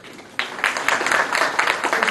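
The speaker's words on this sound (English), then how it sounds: "Please give yourself a clap." An audience at a plenary session breaks into applause, a sudden burst of scattered clapping that swells and continues steadily in a large room.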